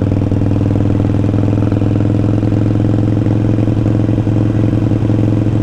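Motorcycle engine running steadily up close as the clutch is let out and throttle gently added to roll away in first gear, a continuous mid-pitched drone with faint mechanical clatter and no talk.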